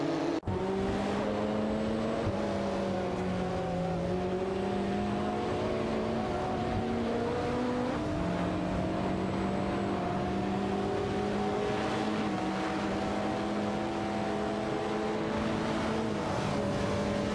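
Race cars in a video game, a Lamborghini Diablo GTR and a Ferrari F40 LM, drone steadily at high revs with several engine tones layered together. Pitch rises and falls through gear changes, and the sound is loud and continuous with no talking.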